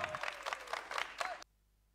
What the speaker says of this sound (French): sur ces applaudissements des joueurs de tchoukbal